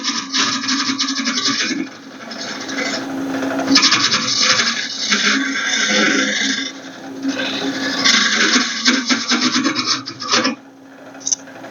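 A Robert Sorby hollowing tool cuts inside a turned wooden vase, making a steady, loud rasping scrape in long sustained passes with brief pauses, close up and with no talking.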